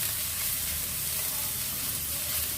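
Soybean chunks and potato pieces fry in a pan with a dense, even sizzle and hiss that stays loud and unbroken from start to finish.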